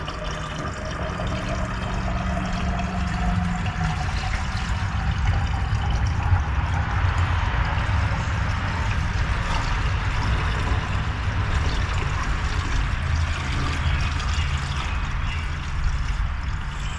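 Water pours steadily into a truck's cooling system for the whole stretch, a continuous broadband splashing and filling rush with a faint rising tone, no speech.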